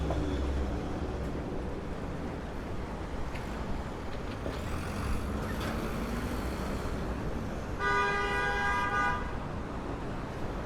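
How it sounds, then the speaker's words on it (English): Amid a constant low rumble of Manhattan street traffic on 14th Street, a vehicle horn sounds one sustained, moderately distant blast of about a second near the end. "like honking your horn will get you out of this traffic any faster"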